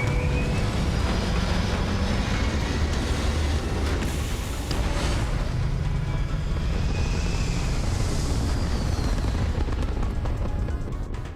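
Spaceship takeoff and flight in the video game Starfield, a dense, continuous roar of thrust and rumbling blasts that stays loud throughout, with swelling whooshes partway through and no voices.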